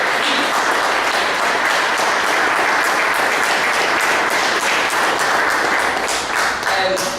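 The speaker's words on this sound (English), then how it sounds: "could you please give a round of applause for yourselves for sticking through for all this time?" A general-meeting audience gives itself a steady, dense round of applause that fills the room for several seconds without a break, loud and close, with no talk over it.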